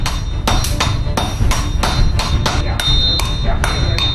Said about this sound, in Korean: 큰 망치와 작은 망치로 번갈아 두드려 쇠를 넓히면